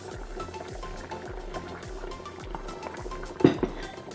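Cornstarch and water mixture poured into pot roast sauce in an Instant Pot, a close, steady liquid trickle with soft bubbling and a louder splash near the end, no talking.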